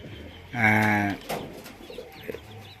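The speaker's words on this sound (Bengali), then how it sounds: "অনেক সুন্দর সুন্দর কবুতর আছে এখানে দেখছি" A single pigeon gives a clear, close coo at a pigeon farm, with quiet background rustle afterwards.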